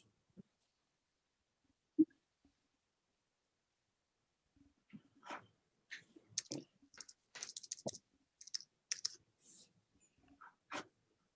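Scattered clicks of keyboard typing, sparse at first then in irregular bursts, quiet and close, with no one speaking.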